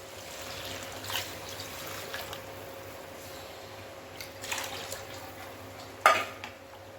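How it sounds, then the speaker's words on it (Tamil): Water is poured into a cooking pot while making sambar rice, a faint, soft trickle over a quiet kitchen background, ending with a single sharp metallic clank near the close. "இப்ப வந்துட்டு நம்ம தண்ணி ஊத்திடலாம்"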